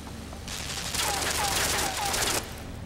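Rapid gunfire bursts in the dark puzzle platformer Limbo form a dense, crackling volley lasting about two seconds over a constant low ambient hum.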